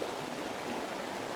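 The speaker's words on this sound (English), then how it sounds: "There's not a huge amount of water coming off that fall." A small waterfall at Padley Gorge gives a light, steady rushing wash of falling water, even and unbroken, with no voices.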